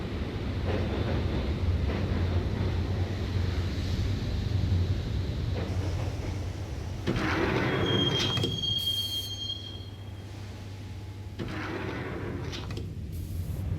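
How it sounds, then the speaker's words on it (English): Subway train riding in the Max Payne video game: a steady, loud rumble of wheels on track with metallic squeals and screeches partway through, continuing alone without talk for the whole stretch. "the train doors had already shut behind me, and I was in for the ride"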